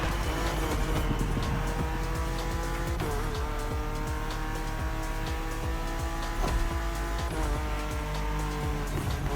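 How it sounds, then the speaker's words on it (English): Car tires skid and squeal in the racing video game The Crew Motorfest, with a BMW M4 Competition sliding through corners, loud engine roar throughout and repeated tire squeals rising and falling. "My car is really sliding."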